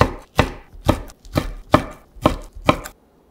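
Bacon strips are cut with a knife on a cutting board, producing six evenly spaced, crisp chopping thuds at close range with no talk.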